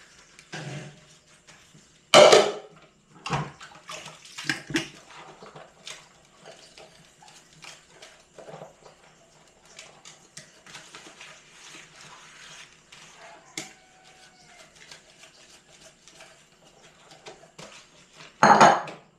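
Dishes being washed by hand in the morning: scattered clinks of plates, cutlery and pots with sloshing water, a few loud clattering knocks at the start and end and quieter handling between.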